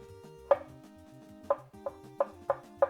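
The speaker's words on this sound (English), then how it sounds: "I'm going to mince 1 clove of garlic." A knife mincing a single garlic clove on a cutting board, with a series of sharp, distinct chops at irregular intervals close up and no talk.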